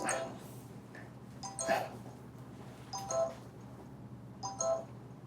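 Mobile phone ringing in a hospital room, a repeated electronic ring tone in short bursts roughly every one and a half seconds over a quiet room hum.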